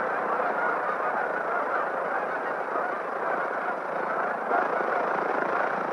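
A large flock of geese honks continuously at Horicon Refuge, a dense, steady chorus of overlapping calls close by, with no talking over it.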